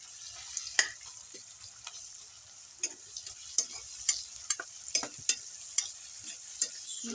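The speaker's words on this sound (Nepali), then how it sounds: "प्याजबाट सुरुवात भएको छ अब प्याजलाई मजाले एकछिन फ्राई गर्ने रातो बनाउने" Onions fry in a pan for homemade biryani, a soft steady sizzle broken by repeated sharp clicks and scrapes of a spoon stirring, close and fairly quiet with no voices.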